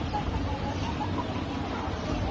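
Chickens, including black chickens, cluck softly while pecking feed amid a dense, steady background murmur of a farmyard.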